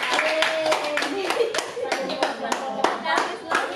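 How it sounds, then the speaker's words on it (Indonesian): A university class claps for a student group after its presentation: scattered, uneven hand claps from a modest group, mixed with talking and voices throughout. "tepuk tangan dulu untuk kelompok"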